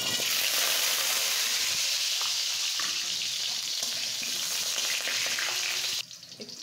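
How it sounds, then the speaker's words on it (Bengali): Potatoes fry in a wok with a loud, continuous sizzle and light stirring scrapes, then the sizzle drops sharply near the end. "আলুগুলা ভেজে নিব।"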